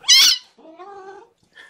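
Kittens squeal and mew sharply while play-fighting, one high shrill squeal followed by a longer wavering cry and a short final chirp, close and loud.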